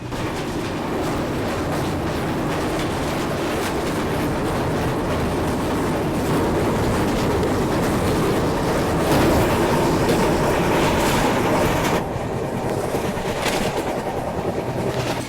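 Vivek Express passenger train crossing the Rupnarayan River, a steady loud rumble of wheels and carriages with rhythmic clatter throughout, swelling briefly partway through.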